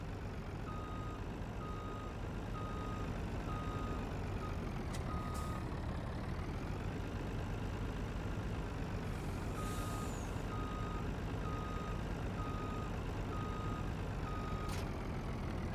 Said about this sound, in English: Now we can hook the truck to this trailer.